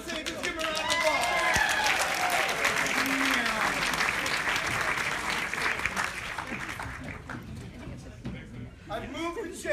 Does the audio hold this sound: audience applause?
yes